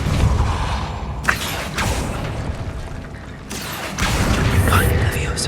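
A Depulso force spell cast in Hogwarts Legacy gives two broad whooshing blasts amid busy mechanical game ambience, with a spoken voice over the effects.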